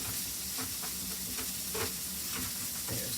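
Small bits of meat sizzle and fry in a pan while being browned for chili, with a steady crackling hiss and occasional stirring scrapes close by, no talking.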